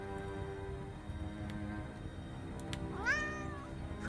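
A domestic cat lets out a single rising, then falling meow near the end, heard fairly close over a steady low background hum in an indoor drama scene.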